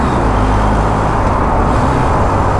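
A BMW GS Adventure motorcycle engine on a weekend ride near Caernarfon and the Great Orme, with a loud steady roar and road noise filling the whole stretch, close up and without talk.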